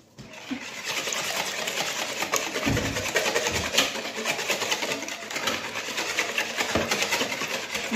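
An electric mixer whirs steadily while beating liquid ingredients and milk for a healthy, sugar-free, gluten-free cake batter, a continuous buzzing motor drone with a few brief knocks as the beaters hit the bowl.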